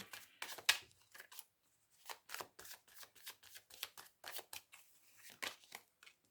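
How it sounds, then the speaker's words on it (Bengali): Playing cards being pulled from a deck and shuffled at close range, a run of short crisp flicks and riffles in uneven bursts with brief pauses between them. "প্রথমে বলে দিই ওনার দাঁড়ান সব কার্ডগুলো বার করে তারপরেই বলে দিচ্ছি"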